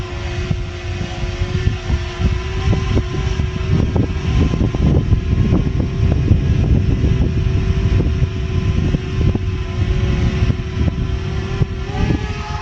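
A FIMI X8 Mini V2 drone in flight gives a steady, loud propeller whine with a constant tonal hum and rushing air, continuous and unbroken, with no talk.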